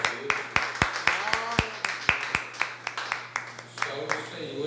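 A church congregation claps hands in rhythm during worship, sharp, evenly spaced claps repeating steadily throughout, with a low sustained tone underneath.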